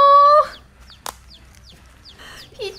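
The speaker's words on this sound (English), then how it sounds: "This little baby chicken was adopted by this duck." A baby chicken raised by a duck cheeps and peeps in short high chirps, a loud opening call followed by scattered quieter peeps and one sharp click, close by and without talk.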